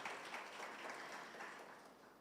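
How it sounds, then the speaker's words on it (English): Faint, distant applause from an audience at an International Women's Day bell ringing ceremony at the Jamaica Stock Exchange, honouring Jamaican women in STEM, forms a soft, even patter that slowly fades. "And we should applaud them"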